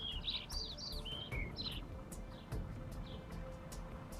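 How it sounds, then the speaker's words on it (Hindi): Birds chirp and tweet in short bright bursts along a mountain path beside a clear flowing stream, with a soft steady rush of water underneath and no talking. "आपको सिवाय चिड़ियों की चहचहाट के कोई और आवाज़ सुनाई नहीं देगी"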